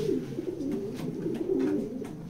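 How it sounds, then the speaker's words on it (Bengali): Low, throaty coos from a female pigeon at a pigeon loft repeat in soft rolling phrases, close by, with faint rustling in the background and no talking. "এটা একটা মাদি কবুতর।"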